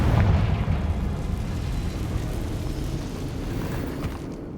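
A Confringo blasting spell explodes in Hogwarts Legacy inside an old cave-in passage, a loud, rumbling blast that rolls on and slowly fades.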